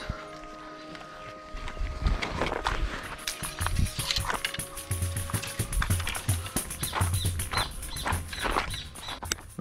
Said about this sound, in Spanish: Vengo escuchando el ruido de las crocs nada más.